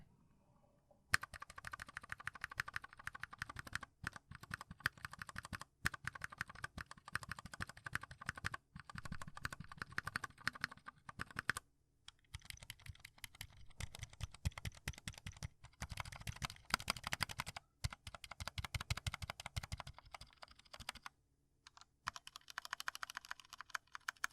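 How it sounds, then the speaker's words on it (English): Spacebar typing on a pre-lubed Anne Pro 2 60% mechanical keyboard fitted with O-rings: rapid, close clacks in dense bursts separated by brief pauses, heard alone without speech. "This is what the spacebar sounds like on a pre-lubed Pro 2 with O-rings on"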